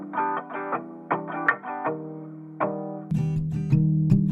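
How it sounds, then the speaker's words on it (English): A musical phrase plays through the Audio Thing Speakers plugin, set up as an intercom emulation with heavy valve distortion, compression and a bandpass filter. It sounds dry first, then switches to a gritty, harsh, narrowed tone partway through. "I added a lot of valve distortion, some compression, and then I did a bandpass filter"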